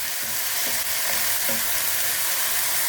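Snow peas and scallops stir-fry in a pan as a splash of water is added, giving a loud, broad hiss with a few rhythmic scraping strokes of a spatula.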